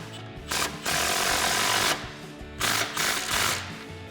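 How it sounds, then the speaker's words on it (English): An 18mm bolt on a Charger rear upper camber arm is driven tight with a socket and an open-end wrench. Close, loud bursts of rapid mechanical rattling come in several pulses, like an impact gun. "Now we'll tighten up our outside bolt using our open-end 18mm wrench"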